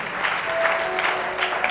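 A church congregation at a Sunday service claps in a brief burst of applause, moderately faint and a little distant.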